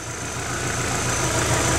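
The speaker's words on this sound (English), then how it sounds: "I love how smooth these engines idle." Subaru EJ flat-four engine idling after idle air control valve cleaning, a steady, smooth low rumble heard up close and alone.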